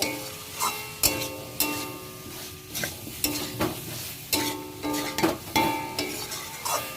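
A spoon stirs pointed gourd, potato and soya chunks with spices in a frying pan, giving repeated scraping strokes over a steady sizzle, with no talking.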